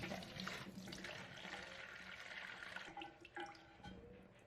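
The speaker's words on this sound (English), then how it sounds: "Now hold a large bowl underneath and lift the flush valve up a little bit." Water draining from a Kohler toilet flush valve lifted slightly over a large bowl, a steady splashing pour that runs throughout with a few brighter gurgles near the end.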